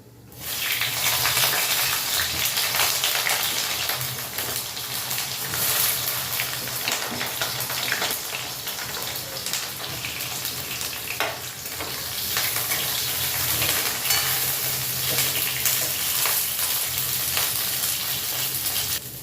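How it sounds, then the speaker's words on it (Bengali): Eggplant pieces dropped into hot oil tempered with nigella seeds and dried red chillies, giving a loud, dense, continuous hiss of frying that holds for the whole stretch and briefly swells, with no voices. "ফোড়নটা চুটপুট করলে ছেড়ে দিচ্ছি বেগুন।"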